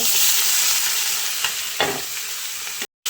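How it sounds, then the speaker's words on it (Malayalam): Spinach frying in a pan on low flame, stirred: a continuous close sizzle with a few soft scraping strokes of the spoon, then a brief cut to silence near the end. "വെറുതെ ഇളക്കി കൊടുക്കുക ലോ ഫ്ലെയിമിൽ വെക്കണം"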